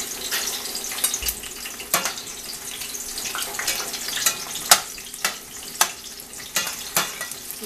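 Green chile peppers sizzle steadily in hot oil, with a constant frying hiss and occasional sharp pops and stirring clicks, no talking.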